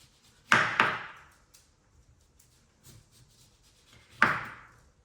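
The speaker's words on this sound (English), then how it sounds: "Now we take one orange and we remove the peel from it with the knife" A sharp knife slicing the peel off an orange, with a few crisp cutting strokes and scraping rasps spaced apart, close and clear against a quiet background.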